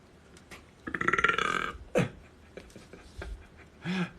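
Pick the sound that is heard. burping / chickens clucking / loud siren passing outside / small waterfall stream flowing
burping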